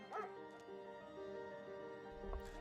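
A dog in a played clip lets out a short yelp or bark near the start, then a faint whimpering yip later, both soft against a continuous tonal background.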